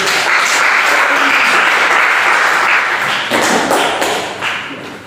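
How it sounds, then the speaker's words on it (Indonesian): A classroom group claps together in a dense, loud burst of applause that holds steady and then tapers off toward the end, with no voices over it. "Kita berikan aplaus dulu."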